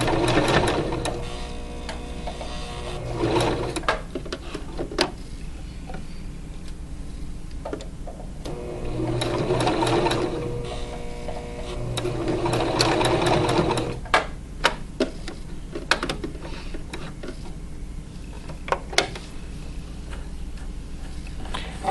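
A sewing machine runs in bursts as it stitches the side seam of a hoodie along a 5/8 inch line. The stitching runs close and steady, with short pauses and handling of the fabric between runs.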